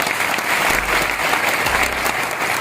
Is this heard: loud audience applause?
yes